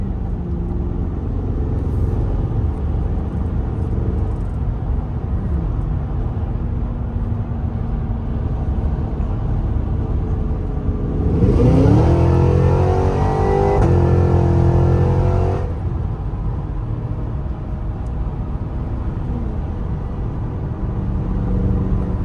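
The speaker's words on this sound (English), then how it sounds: "Definitely hear a little bit more blower noise." A supercharged Cadillac Escalade V with a smaller pulley and a large aftermarket air intake revs briefly, the blower whine sweeping upward in pitch for several seconds over the engine's low rumble and road noise before settling back.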